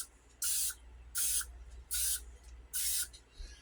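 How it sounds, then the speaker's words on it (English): Four short hissing bursts of cooking spray onto a pan, evenly spaced about a second apart, close and fairly quiet, with a low hum underneath. "I am, however, going to spray my pan with a little bit of spray."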